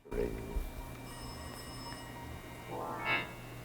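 A telephone rings with an electronic, bell-like tone, giving a couple of bright pulses over a low background hum, with a voice faintly present.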